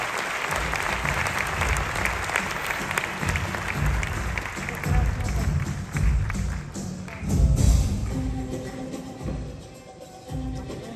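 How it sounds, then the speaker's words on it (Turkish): An audience at the Best of Rumeli 2022 award ceremony, held by a Balkan associations federation, applauds loudly for a welcomed guest, producing a dense, sustained clapping that swells and fades over about eleven seconds. "alkışlarınızla davet ediyorum"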